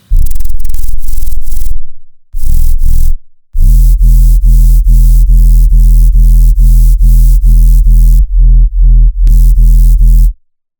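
Loud, distorted bass synth notes built from a sine tone with a noisy hiss on top, hit in a fast rhythmic pattern with brief gaps.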